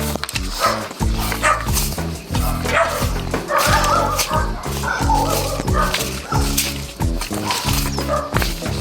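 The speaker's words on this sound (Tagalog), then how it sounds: "Ayan, kasama natin yung aking mga alagang aso." Several pet dogs bark repeatedly and loudly close by, overlapping yips and barks in quick bursts outdoors at a farm plot.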